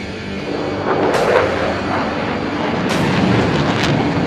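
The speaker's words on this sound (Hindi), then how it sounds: "सोलो तुर्क इस वक्त आपके सामने लूप का मुजाहिरा पेश कर रहा है" A Solo Turk jet flies an aerobatic loop at a Pakistan Day air show, giving a steady, loud roar of jet engine noise with broad rumbling surges throughout and no talk.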